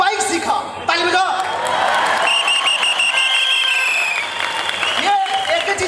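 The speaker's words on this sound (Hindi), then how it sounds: "ताली बजाओ।" Audience applause and cheering at a business event in Ahmedabad, loud and dense with shouts and whoops, a brief pause near the start before the crowd noise swells and continues throughout.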